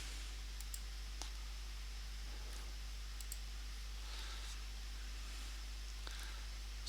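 Sparse, faint mouse clicks while installing Citrix Workspace app for Windows, a few isolated clicks spread over a steady low hum, with no talking.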